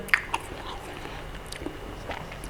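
Close-up chewing of crunchy vegetables with crispy shredded beef in Peking sauce, a few sharp crisp bites followed by soft steady mastication, quiet and near.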